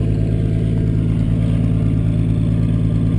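A 1976 Triumph TR6 engine idles smoothly and steadily, a low even hum with no popping or misfires, heard close and alone.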